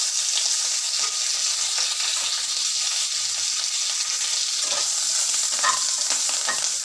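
Mustard seeds, two green chillies and curry leaves hitting hot oil for a tamarind gojju, giving a steady, close, bright sizzle with scattered crackles and pops throughout.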